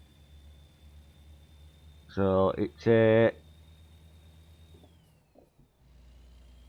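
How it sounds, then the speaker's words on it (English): A Kenworth T800 day cab truck with a Packard 510 engine in American Truck Simulator idles with a faint, steady low drone, briefly under someone talking. "It's got the Packard 510 engine in."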